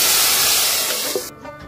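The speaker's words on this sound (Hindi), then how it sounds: "और डालती हूँ इसमें तड़का।" Hot tadka tempering poured into kadhi gives a loud, broad sizzling hiss that fades over about a second and then cuts off abruptly, followed by a brief quieter bubbling.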